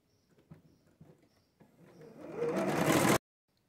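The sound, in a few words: sewing machine stitching patchwork star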